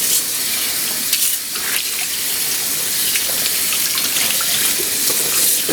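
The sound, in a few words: hot water running from a tap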